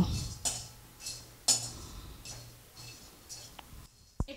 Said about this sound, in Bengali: এগুলোকে আমি একটু নাড়াচাড়া করে নেব